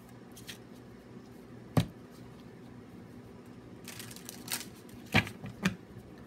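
A deck of tarot-style cards being handled at close range: soft rustles, a few sharp snaps and a brief riffling flutter over quiet room tone, with no talk.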